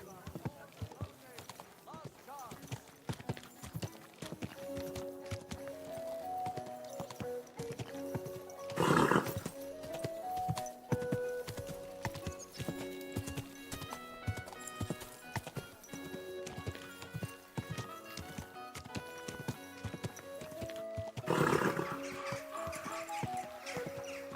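Horse hooves clip-clop in a steady walking rhythm in the medieval game Kingdom Come Deliverance 2, with occasional whinnies and background music underneath.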